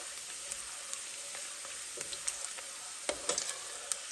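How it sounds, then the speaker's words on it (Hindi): Onions frying to light brown for a korma-style aloo gosht, a steady broadband sizzle throughout with small crackles and pops scattered over it, close and even in level. "लाइट ब्राउन करेंगे हम प्याज़ों को।"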